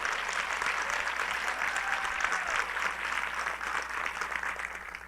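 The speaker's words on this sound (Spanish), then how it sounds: "os pido un fortísimo aplauso, pero que se caiga esto" An audience at a business presentation in Miami Beach breaks into continuous, dense applause, an even wash of clapping that holds steady throughout with no speech.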